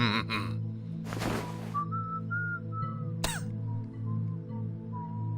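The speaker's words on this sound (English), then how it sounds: "Is that Watson just whistling while he works?" A character whistles a short tune of several clear sustained notes while working in the Sherlock Holmes Crimes & Punishments video game, over a steady low hum, with a brief burst of noise and a sharp click mid-way.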